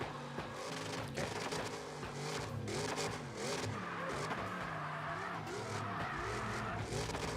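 A BMW drifts in CarX Drift Racing Online 2, tires squealing steadily over a revving engine that rises and falls through the run, loud and continuous for the whole stretch.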